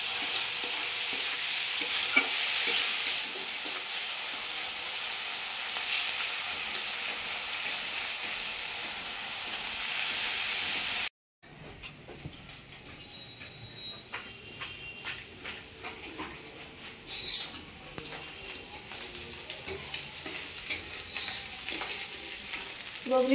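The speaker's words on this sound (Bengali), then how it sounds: "বগলি মাংসটা ভাজা হয়ে গেছে, এবারে ঢোকাবো।" Meat fries in hot oil in a pan: a loud, steady sizzling hiss runs for several seconds, then after a brief break gives way to quieter crackling broken by scraping stirs of a spoon.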